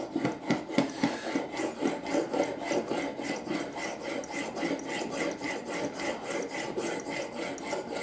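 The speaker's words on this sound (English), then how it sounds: "Okay, so still sharpening away. I'm currently on my sash cutter right now." The sash cutter from a Stanley 45 combination plane is sharpened with steady back-and-forth rasping strokes, close and continuous, with no voices.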